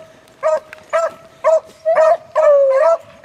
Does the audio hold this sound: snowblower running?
no